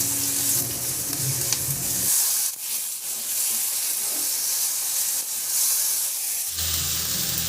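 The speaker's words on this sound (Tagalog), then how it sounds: "Igisa ko na rin yung sibuyas. Igisa ko na rin yung kamatis." Onion and tomato are sautéed in a pan, a loud close sizzle with stirring scrapes, and the frying hiss swells and shifts as the food is turned.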